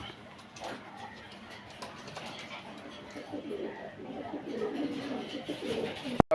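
A pair of Budapest pigeons, a male and a female, coo softly in the background of a busy loft. The low, continuous murmur sits under faint room noise and ends with a sharp click.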